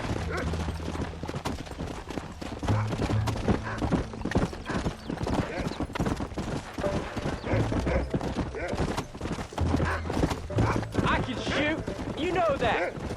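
Horse hooves gallop at a steady, rapid clip-clop in the Red Dead Redemption video game, loud and continuous throughout, with voices and other game sounds mixed in.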